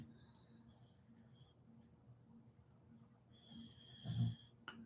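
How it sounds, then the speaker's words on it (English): A woman asleep and sprawled out snores softly, with an odd snore that rises into a louder snort near the end over quiet room noise. "She got like the weirdest snore in the world."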